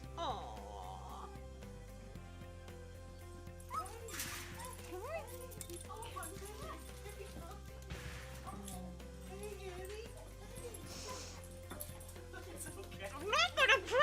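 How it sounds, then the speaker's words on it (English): A young beagle whimpers and yips excitedly during a homecoming reunion with a military veteran, with high whines and short barks scattered across the stretch and louder yelps near the end, while people talk and react around it. "It's a young dog, and it remembers him."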